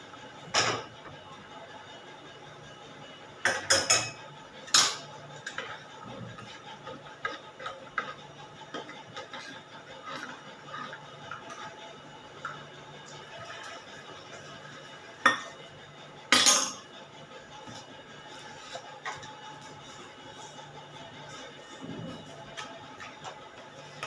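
A spoon stirs milk into poured tea, with faint soft clinks and scrapes at a quiet level, scattered through the clip, and several louder clattering knocks of cups or utensils around the counter.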